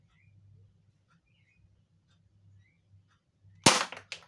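A Beretta MP900 airsoft pistol fires at a target: one sharp, loud close shot after a quiet stretch of low hum and faint bird chirps, followed by a brief rattle.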